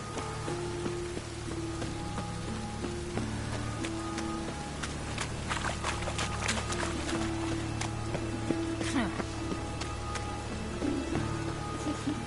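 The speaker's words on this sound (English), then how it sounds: "And it's raining again." Steady rain patters on surfaces in the open world of The Witcher 3, a dense continuous hiss that holds at a moderate level throughout, with faint tonal game ambience and occasional soft thuds beneath it.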